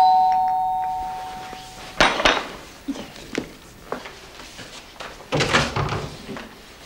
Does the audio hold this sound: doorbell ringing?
yes